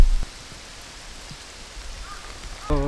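Steady rain falling in a city street in Otsu, Shiga, a soft continuous hiss with brief louder knocks at the start and a tonal sound rising near the end.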